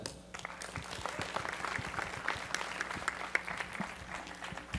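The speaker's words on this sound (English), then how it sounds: "please, everyone, give a big round of applause to Philip Rosedale" A conference audience at the SVVR 2015 virtual reality expo applauds Philip Rosedale, a steady wash of clapping from a large room that sounds somewhat distant and stays fairly quiet throughout.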